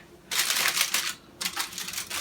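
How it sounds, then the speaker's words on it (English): Aluminum foil being peeled off a baked lasagna, two bursts of close, loud crinkling and tearing separated by a short pause. "we're going to peel the foil off"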